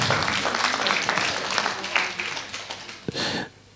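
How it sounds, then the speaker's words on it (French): Audience at a tourism and territorial marketing conference applauding, a dense wash of clapping from a modest crowd that trails off near the end, with a brief voice or sniff over it. "je crois qu'on peut l'applaudir"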